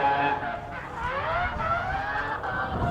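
A Mazda RX-7 with a rotary engine runs loud and close, its buzzing engine tone rising and falling in pitch as it revs for about three seconds.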